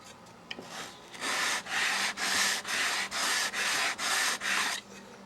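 A sanding block roughing off excess material around a model's motor mounts, seven even rasping strokes in a steady rhythm, close and clear with no talking.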